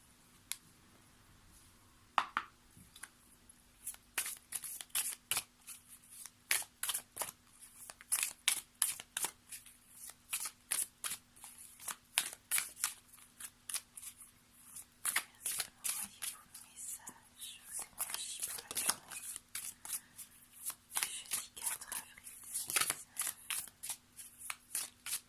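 Tarot cards shuffled by hand for a reading: a long run of rapid riffling and flicking bursts, close and fairly quiet, with some cards dropping, and a soft voice faintly under it.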